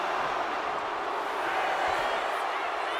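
Arena crowd noise in the wrestling video game WWE 2K25, a dense continuous roar of spectators rallying behind a wrestler, loud and sustained throughout.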